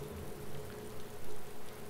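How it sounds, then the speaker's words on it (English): Steady rain hisses and patters in the survival game DayZ, a dense continuous wash of drops that stays close and even, with no talking. "It's probably due to the fact that it's raining."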